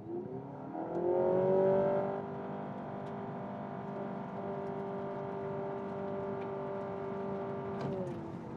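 Honda Civic e:HEV hybrid accelerating from inside the cabin, a quiet motor-engine whir rising in pitch and swelling briefly before settling into a steady hum with a slight dip near the end.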